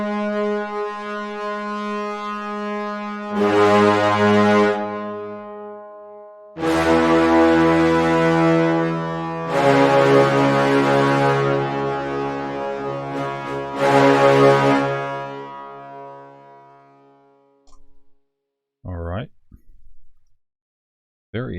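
Brass marcato notes from Strezov Sampling AFFLATUS Chapter II ring out as four loud, full, harmonically rich sustained chords separated by short pauses. The last chord fades into a few brief scattered sounds.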